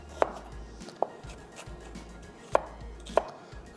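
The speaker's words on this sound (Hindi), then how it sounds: "प्याज को बिल्कुल फाइन चॉप।" Knife chopping onion finely on a cutting board in a TV cooking-show kitchen, four sharp, distinct thuds spaced irregularly over a low background hum, close and clear with no talk.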